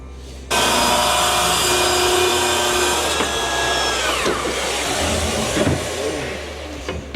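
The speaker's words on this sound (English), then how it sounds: "take it to the saw and cut it just a little bit more off" Power saw cutting a wooden floor board for a boat build, a loud sustained whine starting abruptly and running steadily, the pitch dipping as the blade bites into the wood.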